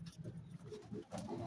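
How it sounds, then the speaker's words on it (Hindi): Pigeons coo softly in a breeder's loft, low throaty burbling calls repeating close by and fairly quiet. "अभी नए कबूतर हैं, ये चेक करें"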